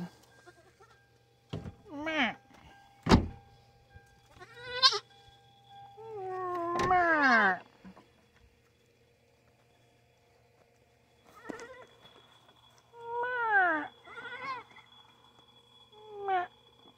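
A small goat bleats several times in short, wavering cries separated by pauses, close by in a quiet setting.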